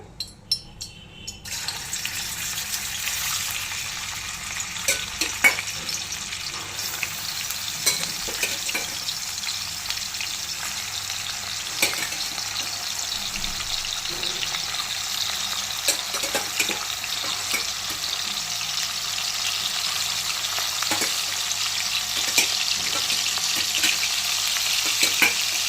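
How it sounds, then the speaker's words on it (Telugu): Dried fish frying in hot oil for a brinjal curry, a steady bright sizzle running throughout with scattered small crackles and pops and occasional stirring, close and fairly loud with no voices. "ఇప్పుడు ఎండు చేపలు వేసేసుకోవాలి ఆయిల్లో"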